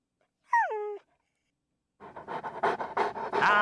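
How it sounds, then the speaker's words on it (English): Dog panting sound effect for a game soundtrack: a short whining tone, a pause, then a run of quick rhythmic breathy pants growing louder, close and alone without talk. "Oh, that's the one panting sound."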